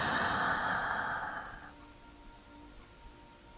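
A deep breath drawn into the chest, held and then slowly released during a guided healing meditation; a long, soft breathy rush fades after about a second and a half into quiet stillness.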